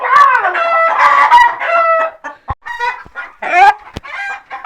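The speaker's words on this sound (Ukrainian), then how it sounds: "Тільки кури верщать." Chickens cluck and squawk loudly up close, a rooster crowing among them, with a few sharp clicks in between.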